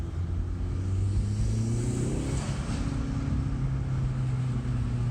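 Hyundai Veloster Turbo fitted with an Injen intake, its engine droning in a steady low hum that swells briefly in a short rev before settling, moderately faint and heard alone.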